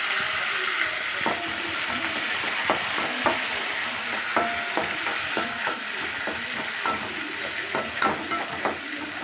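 Onion, green chili, curry leaves and mint sauté in a pan for egg curry, a constant sizzle broken by repeated scraping and stirring knocks from a spoon, moderately loud and close, with no talking.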